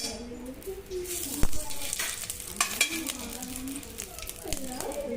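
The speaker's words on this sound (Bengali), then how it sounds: "এদিকে কড়াই একটু ঘি দিয়ে দেবো।" Ghee sizzles in a kadai while fried rice is being made: a steady hiss with a few light clicks, heard under a person speaking nearby.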